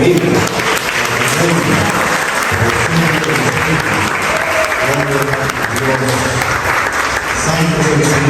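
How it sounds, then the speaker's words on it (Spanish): A church congregation gives a strong round of applause during a morning service, loud sustained clapping throughout, with a voice speaking over it. "que den un fuerte aplauso a los que viven."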